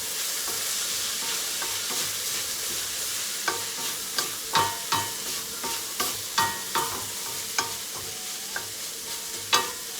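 Fried rice with soy sauce sizzling steadily in a hot pan while a utensil scrapes and stirs it, giving repeated sharp clacks over a continuous frying hiss, close and with no talk.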